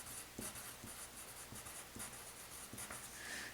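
A pen or marker writes on a board during a calculus lecture, making quiet repeated scratchy strokes in an uneven rhythm, faint and close, with no talking.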